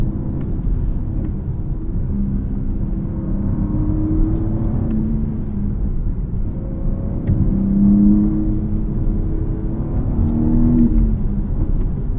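A 2021 BMW M4 with a manual gearbox and 3-liter inline-6 engine drives along a winding road, its engine a steady low rumble and whir that swells and eases with throttle, heard close from inside the car without talk.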